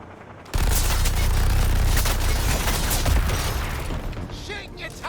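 Heavy sustained gunfire from Suicide Squad: Kill the Justice League bursts in suddenly and rattles on as dense, loud automatic fire, tapering slightly near the end amid chaotic game effects.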